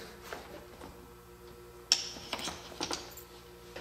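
Wheel nuts being tightened on a Traxxas Summit 1/10 RC truck, giving a few soft ratcheting clicks and metallic ticks close by, with one sharper click partway through and a quiet hum behind.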